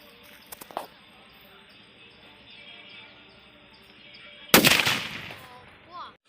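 A Pillaiyar country firecracker from Valangaiman goes off after a quiet wait with one sharp, loud outdoor bang and a roaring tail that fades over about a second. Light crackles come earlier, and faint voices are heard afterward.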